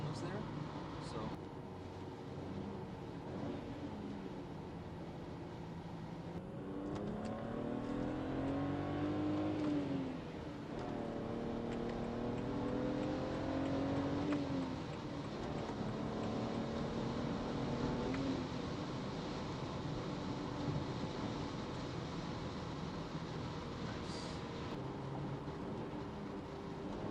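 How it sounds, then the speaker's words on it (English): A BMW 135i E82 drops quickly from sixth to fourth gear on the road, the engine note rising in two smooth sweeping surges over a steady cabin drone. "there was a quick 2 downshift from 6 to 4th. That went pretty smoothly."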